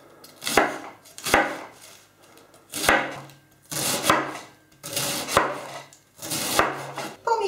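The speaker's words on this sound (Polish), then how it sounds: "Zaczynam od poszatkowania kapusty." A knife shreds pointed cabbage on a cutting board in six short bursts of crisp slicing and chopping, each followed by a brief pause.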